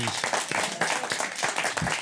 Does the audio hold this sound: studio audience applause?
yes